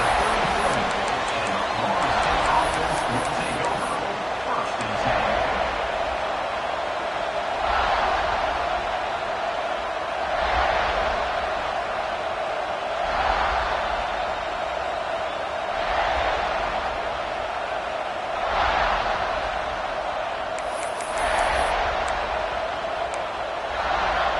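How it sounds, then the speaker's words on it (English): A home crowd at a college football game, South Carolina against FSU, roars in steady, swelling waves for over twenty seconds while an announcer talks over it. "this home crowd is fired up and ready to make a difference today"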